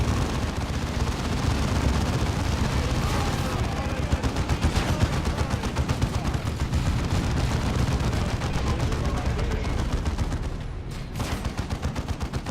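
Dense gunfire crackles through a Dawn of War 2 co-op campaign battle as squads focus fire, a continuous rapid barrage of shots and booms that stays loud and busy before briefly thinning near the end.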